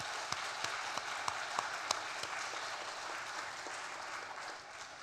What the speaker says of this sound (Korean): 박수로 한번 격려해 주시기 바랍니다.